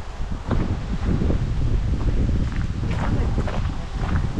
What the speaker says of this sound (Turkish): Bugün şiddetli rüzgarlı arkadaşlar.